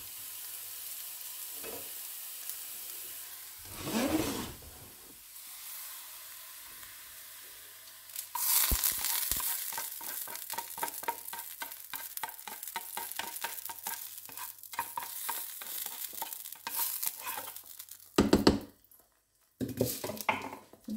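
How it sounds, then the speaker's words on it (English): Onions fry in a pan, giving a steady close sizzle broken by stirring scrapes and clatters, with brief pauses and a louder burst of stirring near the end; no talking. "so I'm adding my salt here in my onions. I don't want it to turn very brown"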